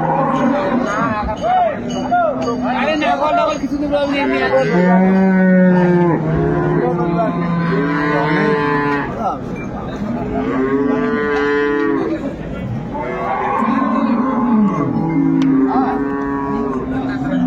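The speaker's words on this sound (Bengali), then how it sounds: "গাভী বাছুর" Loud, drawn-out moos from dairy cattle at a market, several calls in succession up close, with a deeper cow and higher calf voices overlapping; some background chatter.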